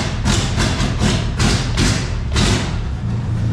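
A Volvo XC90 engine idling with a failed EGR pipe, a loud close rough thumping rumble with repeated heavy pulsing beats, running continuously.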